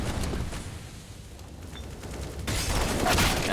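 Gunfire in the CS:GO video game during a pro match on Mirage, a FAMAS rifle among the weapons. Rapid bursts of shots crackle over a busy game mix and grow louder and denser near the end.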